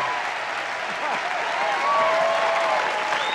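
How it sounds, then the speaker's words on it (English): A comedy-show audience gives sustained applause as actor Jamie Farr is welcomed, the clapping broad and even, with faint whoops and crowd voices mixed in. "help me welcome one of my favorite actors from MASH, Jamie Farr."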